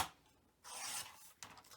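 Scissors cutting scrapbook paper at close range, two bursts of dry rasping slicing separated by a short pause, faint and alone.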